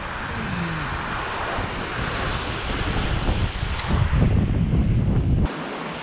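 Strong wind buffets the microphone on a coast while fishing for squid, a steady broadband roar with surf-like rushing that swells louder toward the end, with no talking.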